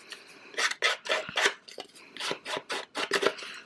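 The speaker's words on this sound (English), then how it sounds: "I'm going to take my scissors and just kind of roughen the edges a little bit." Scissor blades scrape along the edges of paper cards in a mixed-media craft project, a close, quiet series of short rasping strokes in an uneven rhythm.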